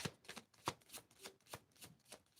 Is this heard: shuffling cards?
yes